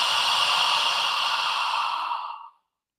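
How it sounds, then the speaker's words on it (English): Long, deep exhale from the lower belly during a breathing exercise, a close, steady airy breath out lasting about two and a half seconds before fading to silence. "we breathe in, filling the lower belly, and then the out breath is like this"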